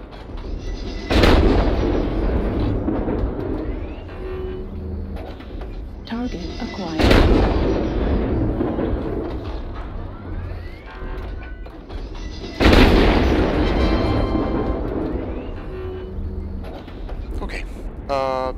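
Heavy weapons on an Atlas mech fire in MechWarrior Online, three loud booming volleys spaced a few seconds apart, each trailing off into rumbling mechanical noise, with a voice talking throughout.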